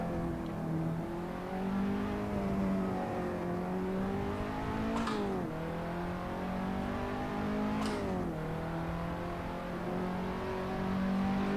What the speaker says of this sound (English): let's just drive. This is the KTM crossbow here at Silverstone.